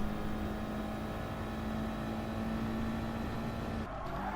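Group 4 race car engine in GT Sport at the Suzuka circuit, holding a steady drone at near-constant pitch with a faint tire hiss, then cutting off abruptly near the end, with no one speaking.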